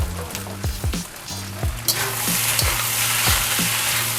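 Cooked rice goes into a hot pan with bagoong for Chinese fried rice, sizzling loudly and steadily while a utensil scrapes and stirs in repeated rhythmic strokes.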